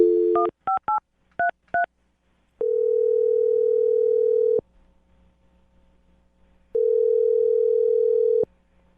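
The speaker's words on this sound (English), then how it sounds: "I'm going to dial his phone number right now and get him on the phone" A quick run of phone keypad beeps, followed by two long, steady telephone tones separated by a pause of near silence.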